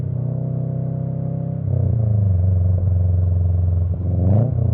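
Car engine on a hill drive, humming steadily in gear and then rising in pitch as the revs are matched and the gear changes, a close loud drone with a quick rev blip near the end.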